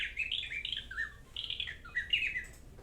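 Purple martin calling in a spring backyard setting, a run of bright warbling chirps and squeaky notes in two or three bursts, fairly close and clear over a faint low background rumble.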